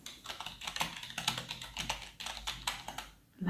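Fingers typing on a computer keyboard up close, a quick run of soft clicks and taps in irregular bursts, fairly quiet with a short pause near the end.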